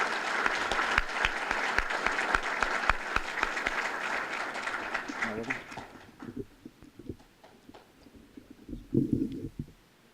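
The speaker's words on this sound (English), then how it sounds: "how about a round of applause for Hall of Fame President Jeff Pierce" An audience at an athletic hall of fame awards ceremony applauds the Hall of Fame president. The clapping is dense for about six seconds, then thins and fades into murmuring and a few voices.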